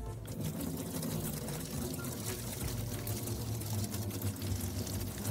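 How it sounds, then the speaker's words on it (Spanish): Hot water poured off a pot of potatoes into a sink, a steady gush and splash that runs continuously and fairly loud with a kitchen background. "Vamos a quitar este agua con mucho cuidado."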